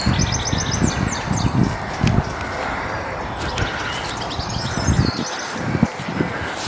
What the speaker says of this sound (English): You might hear the birds here because they just go crazy.